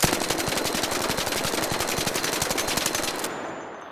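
Full-auto machine gun fitted with a compensator or muzzle brake fires one sustained rapid burst of sharp cracks for about three seconds, loud and close, then stops abruptly with no talk.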